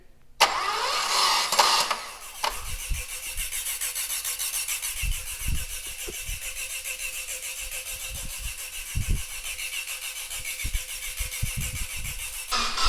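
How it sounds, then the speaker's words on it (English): A newly installed Mitsubishi 3000GT VR4 engine cranks and starts, then settles into a rough, uneven idle with irregular pulses, heard close up. "turn the starter on again"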